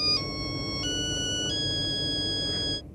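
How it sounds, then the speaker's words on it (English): A cell phone plays a custom ringtone written with its built-in music composer: three steady electronic tones stepping through pitches, loud and close, then cutting off at the end. "This new phone also comes with a music composer, so you can create your own unique cell phone ring."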